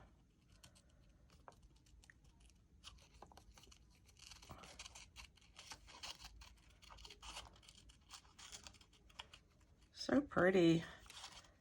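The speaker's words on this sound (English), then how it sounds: "Let me get some scissors and kind of fussy cut around him a little bit." Scissors snip around a paper image for a handmade journaling card, a string of small close, crisp cuts and paper rustles running throughout, before someone briefly speaks near the end.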